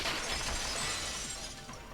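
A vase shattering in Danganronpa 2, a bright, dense burst of breaking ceramic that fills the short moment loudly and then thins slightly as fragments settle.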